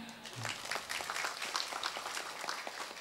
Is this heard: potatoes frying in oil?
no